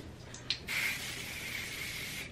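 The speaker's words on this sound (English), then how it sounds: "you can even just like spray them with a little hairspray" A short hiss from a hairspray can, then a steady spray that keeps hissing evenly for over a second, up close.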